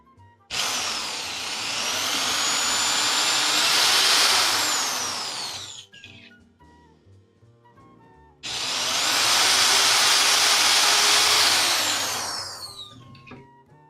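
A power drill whirs loudly in two long bursts, revving up and winding down, with a short quiet gap between them, while drilling holes for a CD shelf.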